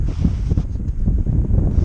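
Strong wind buffets the microphone outdoors at a flat drone takeoff spot, a loud, rumbling, uneven roar with no other sounds distinct beneath it.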